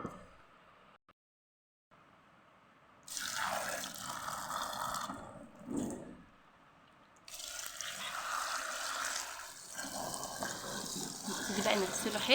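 Greens muddy from the soil rinsed under running tap water, with several bursts of splashing and flowing water separated by short pauses and quiet gaps.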